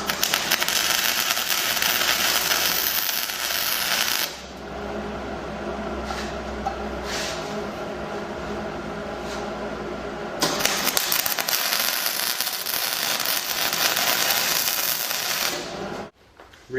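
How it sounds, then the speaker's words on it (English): Tack welding weld screws onto a metal enclosure, with loud crackling arc bursts from the start to about 4 seconds and again from about 10.5 to 16 seconds, and a quieter buzzing hum in between. "we can locate the center point for the enclosure and tack weld"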